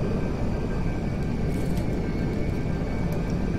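Airbus A380 airliner flying in GTA 5, a steady loud broadband engine and wind roar with a faint high whine, continuous and close, without talking.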